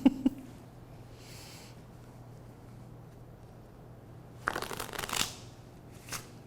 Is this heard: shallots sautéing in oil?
no